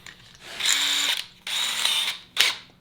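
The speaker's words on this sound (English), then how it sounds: "put it in the drill" A power drill spins a nut driver in three short bursts, giving a whirring, ratcheting mechanical buzz with pauses between them and no talking.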